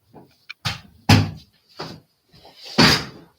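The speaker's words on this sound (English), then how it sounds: "I gotta close my door." A room door is shut indoors, giving several close, loud thumps and knocks as it is handled and pushed closed.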